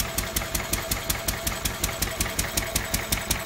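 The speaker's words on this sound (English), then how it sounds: "The old engine still runs quite well, doesn't it?" An old Lister D stationary engine running steadily outdoors, its regular, rapid thumping beat repeating about five times a second at moderate volume with no talk.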